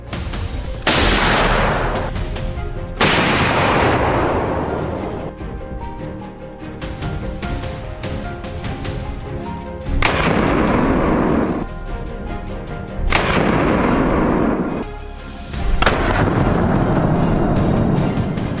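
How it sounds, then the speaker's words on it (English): During a wild boar hunt, several loud, sharp gunshots go off at irregular intervals, each followed by a long, echoing decay, with a steady outdoor rumble in between. "I reloaded, focused with all my attention, and fired the last shot of the day"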